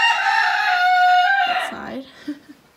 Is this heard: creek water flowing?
no